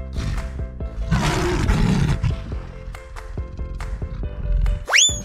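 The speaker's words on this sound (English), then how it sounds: "Lion." A cartoon lion roars loudly for about a second over bouncy children's music, followed by plucked notes and a quick rising whistle at the end.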